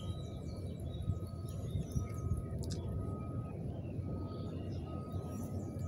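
Canaries and other small birds chirp and trill intermittently over a dense, noisy background hum, their calls faint but repeated throughout.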